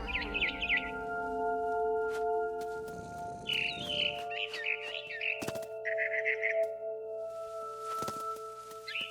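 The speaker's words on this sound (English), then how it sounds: "Then I heard chirping outside my window. It was a barn swallow going back to her nest." Bright barn swallow chirps come in short bursts over a steady background hum, with a few sharp knocks in between.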